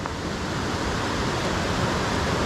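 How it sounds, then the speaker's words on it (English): Laurel Creek runs high after recent rain beside a hiking trail near Laurel Falls, a loud, steady, close rushing of water with no breaks. "that's a lot of water running through there"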